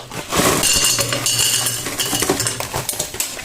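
Chunks of yellow rock sugar tumble and clatter into a metal pot during preparation of a yogurt citrus slice dessert, a dense burst of clinking hard pieces followed by scattered lighter knocks, close and fairly loud with no talking.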